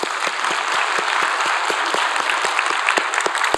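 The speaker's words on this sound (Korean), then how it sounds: "우리 하나님께 영광의 박수 드립니다." Church congregation applauding during a worship service, a steady dense wash of clapping from a large crowd, sustained and fairly loud with no talking over it.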